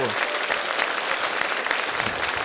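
Audience applause at a live improv comedy show, a dense steady clapping from a crowd that fills the whole moment at even loudness, with faint voices mixed underneath.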